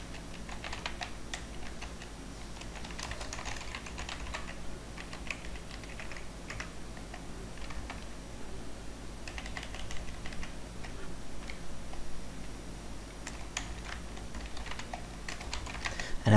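Rapid typing on a computer keyboard while filling in registration details on a web page: continuous soft clicking keystrokes in irregular bursts, fairly quiet and close, with no voices.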